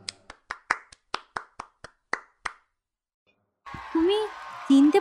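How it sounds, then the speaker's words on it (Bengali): About ten separate handclaps from one person in an audience seat, spaced irregularly and fairly crisp, then silence before a narrating voice begins. "দর্শক আসন থেকে হাততালি দিচ্ছে দাদু"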